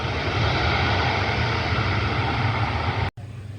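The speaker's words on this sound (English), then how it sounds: "This is a medical jet, and it looks like it's going to arrive on 6 right, runway 6 right." A medical jet arriving on runway 6 right at Cleveland Hopkins airport, heard as a loud, steady broadband engine roar that fills the whole clip, with a brief dropout near the end.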